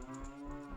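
A cow moos in The Legend of Zelda: Ocarina of Time, a steady, drawn-out, tonal game moo under faint background music with no talking.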